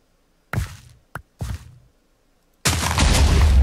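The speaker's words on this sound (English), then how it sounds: "Batteries will randomly explode for no absolute reason." An exploding battery in the Minecraft Electrical Age mod: two short thumps and a sharp knock, a brief pause, then a loud sustained blast of roaring noise that keeps going, with no talking.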